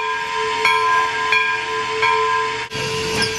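A recorded steam locomotive whistle, sounded by pulling a cord at a railroad display, gives one long, steady, loud multi-tone blast with a hissy edge, lasting the whole stretch and dipping once briefly.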